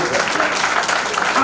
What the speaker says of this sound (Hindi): केहन घनघोर ताली पिटबै